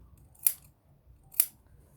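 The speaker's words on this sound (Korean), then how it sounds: "시접은 가위집을 좀 넣어줄게요" Two sharp, separate snips of fabric scissors cutting notches into the seam allowance of a sewn fabric bag, close and crisp over a quiet room.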